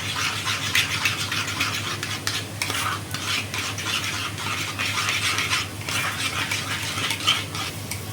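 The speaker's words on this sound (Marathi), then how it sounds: "ते मिक्स करून घ्यायचं आहे दहीमध्ये. इथे आता मिक्स करतोय आपण" Pulav masala being stirred into yogurt with a spoon in a bowl: continuous scraping and mixing strokes, close and steady, over a faint oily sizzle, with no talk.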